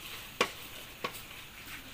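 Frog meat being stir-fried with seasoning in a pan: two brief, separate spatula scrapes or clacks against the pan over a faint, quiet background with no talking.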